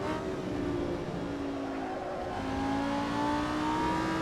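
A Lamborghini Huracan GT3 races at the Red Bull Ring in Assetto Corsa, its engine a steady, loud whining drone with rising and shifting gear tones, heard from the car with no talk.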